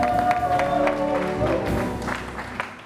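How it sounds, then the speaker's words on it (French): A studio audience claps for a guest on a television show, loud and sustained with some cheering mixed in, slowly fading toward the end. "J'aimerais qu'on applaudisse pour Yabongo."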